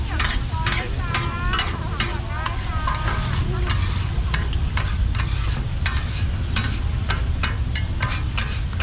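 Sliced pork for mookata sizzles and crackles on a hot pan in a busy Thai grill shop, with steady frying hiss and repeated scraping stirs throughout, close and loud.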